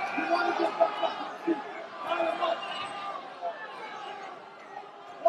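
Crowd at the Blaisdell arena in Hawaii cheering on fighter Brandon Wolff during a championship MMA bout, a steady murmur of chatter and shouts with occasional louder bursts throughout.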